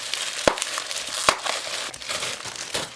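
Tightly wrapped packaging around a mug is pulled open by hand without scissors, giving close crinkling and crushing with two sharp tearing snaps amid steady rustle.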